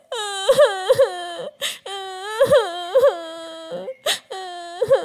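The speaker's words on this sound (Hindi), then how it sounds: "उसके कानों में बच्चे के रोने की आवाजें आ रही थी" A young child cries in repeated wailing bursts with sobbing breaths between them, loud and close.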